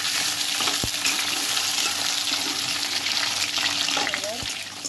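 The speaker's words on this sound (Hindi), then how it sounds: "अपने परवल को फ्राई करेंगे। अच्छे से इसको फ्राई कर लेंगे।" Pointed gourd (parwal) pieces frying in hot oil in a pan: a steady, dense sizzle runs close and loud throughout, with a few brief clinks and scraping stirs.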